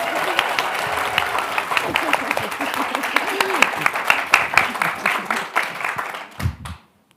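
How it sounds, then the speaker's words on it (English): An audience claps for panelists at a health diversity and inclusion event, a dense round of applause with distinct sharp claps that thins and fades out near the end, followed by a brief low thump. "Let's give a round of applause for our panelists."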